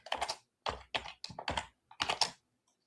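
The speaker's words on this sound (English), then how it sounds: "And then you're going to type in VidIQ." Bursts of typing on a computer keyboard, entering a name into a settings field; several quick clusters of key clicks with short pauses between, close and clear, with no talking.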